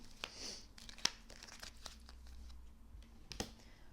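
Tarot card drawn from a deck during a reading: soft papery shuffling and crinkling with a few light card snaps and taps, close and quiet, with no talking.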